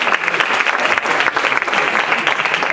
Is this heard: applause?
yes